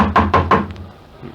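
Three firm, evenly spaced knocks on a door by police serving a warrant, loud and close, followed by quiet.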